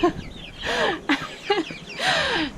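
Meat chickens clucking up close, several short rising and falling calls in quick succession, with no talking.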